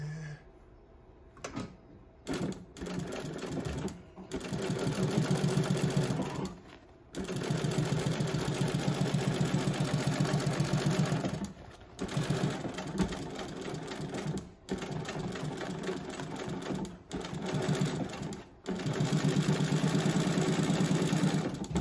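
An industrial sewing machine stitching a three-dimensional cap, running in loud, steady mechanical bursts of several seconds each, separated by short pauses, with no talk over it.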